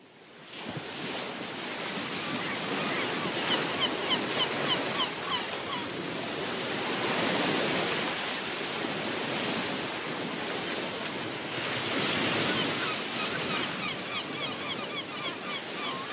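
A seaside sound effect of ocean waves, broad surging wash that swells and recedes in long cycles, with faint bird calls over the roar and no talking.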